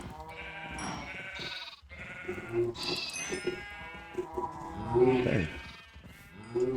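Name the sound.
sheep bleating in a farming video game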